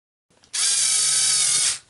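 A power drill drives screws into the front suspension holder of a 1/10 HobbyKing Desert Fox RC car, giving one loud, close, steady whir of about a second that spins down at the end.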